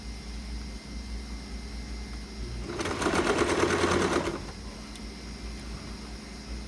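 A sewing machine runs one steady burst of stitching along a sport collar, stitching at one centimetre, rising over a quiet room hum and stopping after about a second and a half.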